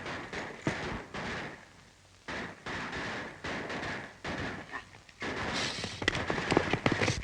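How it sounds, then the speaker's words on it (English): Gunshots crack in an old western setting, a series of sharp, irregular bangs at moderate distance over a faint, noisy background, with no voices. "I'll go see what all the shooting's for."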